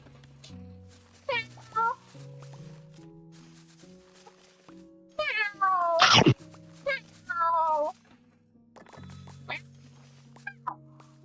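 A person imitating a cat, repeatedly meowing in a high, drawn-out voice, several meows in a row with a louder burst in the middle, over a steady low musical background.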